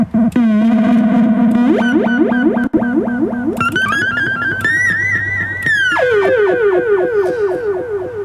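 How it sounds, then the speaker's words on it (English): A dub siren synth with long echo and reverb sweeps and wails loudly, its pitched tones repeating and trailing off in cascading echoes, with bursts of rising warbles over a steady drone. "So it's a pretty long echo."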